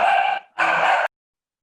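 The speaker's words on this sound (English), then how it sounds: "My dogs are much louder." A dog gives two loud, drawn-out barks in quick succession, close by, followed by sudden silence.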